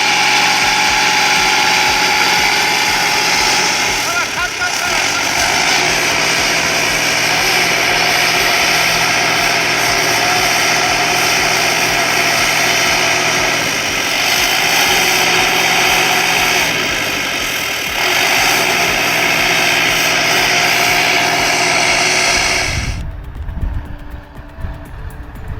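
Belarus 82 tractor laboring in thick snow: a loud, continuous engine drone with shifting load and rising and falling strain for over twenty seconds, then cutting to quieter, uneven rumbling near the end.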